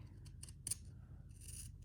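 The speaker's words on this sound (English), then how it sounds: "I'm going to cut there through all those knots" Big scissors snipping through the knots of a crocheted doily, a few quiet close-up cuts with light rubbing between them and no talk.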